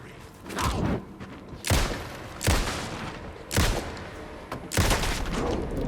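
Gunshots from the horror game Alan Wake 2 boom out loud and close, five heavy blasts spaced about a second apart, each with a booming tail over a dense game backdrop.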